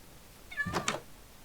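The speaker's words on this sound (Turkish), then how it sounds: "Kediler. Ulan size işkence mi yapıyorlar ya? Neye bu kadar bağırıyorsunuz?" Minecraft cats let out a loud, drawn-out meow that breaks into a second rising cry, heard alone over quiet game background.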